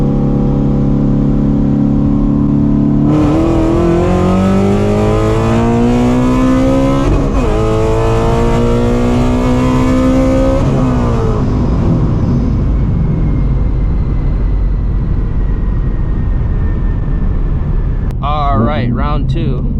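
A supercharged Shelby GT350 Mustang running on E85 accelerates hard, the engine screaming loudly as it climbs through the revs with rising whine, then shifts and eases off, heard from inside the car.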